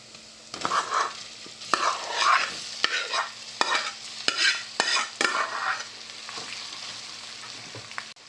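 Samosa filling sautéing in a pan, with loud bursts of scraping and sizzling as a spoon stirs in quick, repeated strokes, separated by sharp knocks, fading quieter toward the end.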